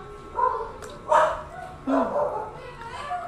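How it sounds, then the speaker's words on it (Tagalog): A dog barks and yips a few times at close range, the short bursts mixed in with a person talking nearby. "Ang ingay pa ng ating aso."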